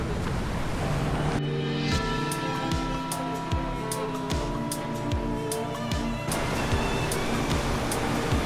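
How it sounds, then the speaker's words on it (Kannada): Strong water currents rush at a dangerous waterfall during rainy season, a loud, continuous roar filling the clip, with a repeated mechanical ticking or knocking over it in the middle stretch. "ನೀರಿನ ಕೋರ್ಸ್ ನೋಡಿ ಸಿಕ್ಕಾಪಟ್ಟೆ ಇದೆ ಇಲ್ಲಂತೂ"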